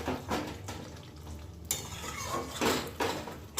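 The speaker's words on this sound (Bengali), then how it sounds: "এবার এই যে দেখুন খুব ভালোভাবে মাংসটার সাথে মিশিয়ে নেব।" Chicken being stirred with yogurt and capsicum in a pan, with repeated scraping and knocking of a spoon against the metal pan and a soft cooking hiss underneath, several sharper clatters toward the end.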